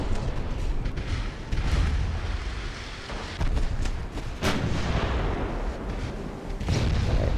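Naval gunfire from early dreadnought-era warships, battleships and battle cruisers in Ultimate Admiral: Dreadnoughts, rolling as a steady wash of dull booms and blasts with a few sharper shots standing out, loud and continuous without any voices.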